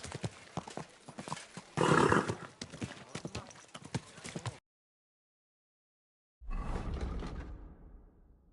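Horse hooves clip-clop in a quick rhythm with a whoosh and a snort in the video game Kingdom Come: Deliverance II, then silence, then a low rumbling burst of movement.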